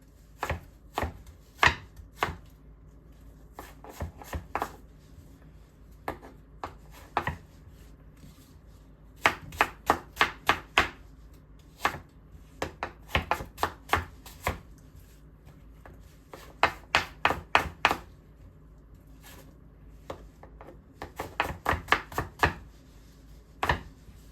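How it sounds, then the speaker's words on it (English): Apples being chopped into small chunks with a knife on a cutting board, sharp close knocks in quick bursts of several strokes separated by short pauses, with no talk. "we're gonna wash and slice our apples, and then we're gonna cut them into little chunks"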